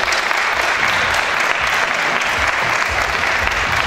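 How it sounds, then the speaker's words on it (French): Audience at the Miss Oise 2020 pageant results ceremony applauding loudly, a dense, steady wash of hand claps filling the hall without a break. "Isabelle Tassin, que je vous demande d'applaudir bien fort, s'il vous plaît."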